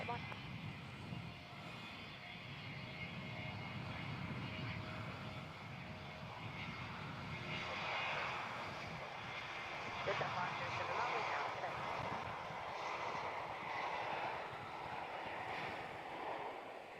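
A Qantas Boeing 717 airliner at Melbourne Airport gives a steady, distant broadband jet-engine roar that holds level for the whole stretch, swelling slightly midway, with a voice faintly present underneath.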